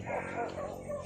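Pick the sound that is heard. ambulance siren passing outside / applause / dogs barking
dogs barking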